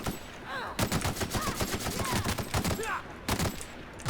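Rapid rifle gunfire in The Outer Worlds fires in dense, continuous volleys of sharp shots, loud and close, with brief pauses between bursts.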